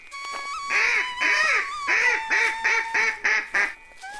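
Cartoon ducks quack in a quick series of about eight loud, nasal calls, close and clear, spaced in a steady rhythm with short gaps between them.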